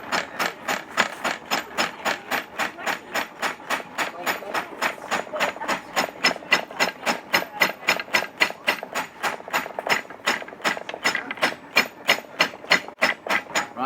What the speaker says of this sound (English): And then I'm going to hammer